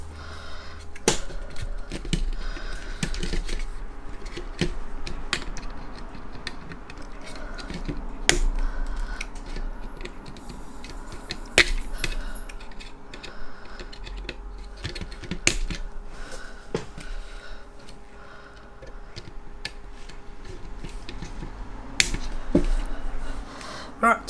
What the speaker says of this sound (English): So now, just cut them all off.